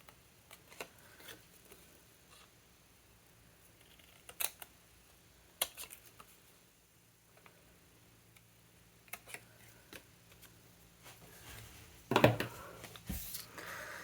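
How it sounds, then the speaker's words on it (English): Paper snips cut a section out of craft paper for a mini album: a few quiet, sparse snipping clicks spread across a near-silent stretch, with a slightly louder burst of cuts and paper handling near the end. "I'm going to take my paper snips and I'm going to cut out this section right here"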